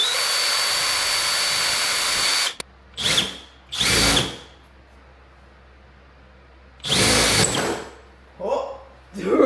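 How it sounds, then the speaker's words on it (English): A power drill whirs in short bursts, about four spins of a second or two each, separated by quiet pauses, close by, drilling on a Volvo S40 car. "Alright, so he's going to drill."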